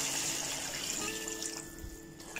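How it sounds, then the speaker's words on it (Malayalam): Water poured into a pot for Kerala sadya sambar, a steady faint splashing stream running through the whole moment with no talk. "ഇനി ഞാൻ വെള്ളം ഒഴിക്കാൻ പോവാം."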